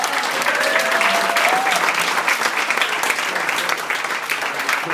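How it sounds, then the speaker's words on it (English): Sustained audience applause fills a wake gathering honoring Tony, a paramedic, and his family, loud and dense throughout with a brief whistle or cheer rising early on. "I want another round of applause for Tony and his family"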